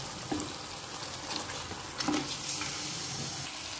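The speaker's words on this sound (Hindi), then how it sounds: "मसालों के साथ चिकन को 1-2 मिनट के लिए अच्छे से भून लेंगे।" Marinated chicken frying in masala in a pan over high flame, a steady sizzle with a couple of brief stirring scrapes, close and moderately loud, no talking.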